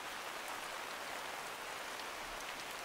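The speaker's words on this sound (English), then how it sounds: "As we got back to camp, the rain set in again" Steady rain falls at a night camp in the Komodo dragon habitat, a dense, even hiss of drops on surfaces that stays constant throughout with no voices.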